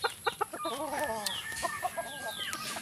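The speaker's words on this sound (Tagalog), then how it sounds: "Ang mga manok natin ay gugutom na" Hungry farm chickens clucking close by in a rural yard, a quick series of short clucks and drawn-out squawking calls over a steady background hiss.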